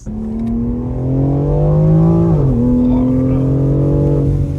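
A BMW X4 M SUV with an Akrapovic exhaust revs hard under acceleration, its pitch climbing steadily, dipping briefly at a gear change, then rising again; loud and close.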